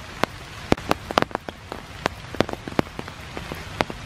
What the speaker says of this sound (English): Enjoying this rainy morning.